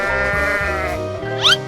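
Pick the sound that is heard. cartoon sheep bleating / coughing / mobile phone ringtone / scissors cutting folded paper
cartoon sheep bleating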